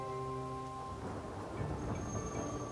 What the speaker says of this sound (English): causing it to fall as life-sustaining rain